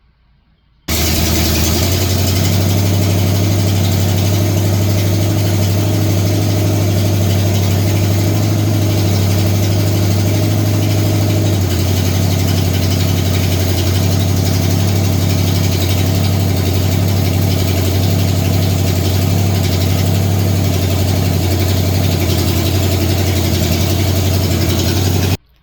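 The engine of the number 49 Ghost Rider race car runs steadily and loudly for about 25 seconds, a constant deep droning idle with a strong low hum and no talking.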